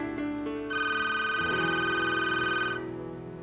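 A telephone rings with a bright, sustained electronic tone for about two seconds over a steady musical backing, then stops.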